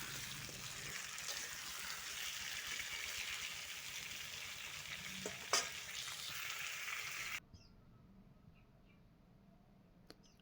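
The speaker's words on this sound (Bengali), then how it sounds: "আলু এবং মূলো দেওয়ার পর ভালো করে কষিয়ে নেব" Potatoes and radish fry in a pan with stirring, a close steady sizzle and scraping for about seven seconds before it abruptly drops to near silence with a few faint clicks.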